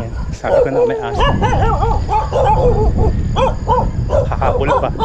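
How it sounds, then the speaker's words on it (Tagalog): Dogs bark and yip intermittently at a distance, with someone talking over them throughout. "So banda doon, may naririnig ko ng aso."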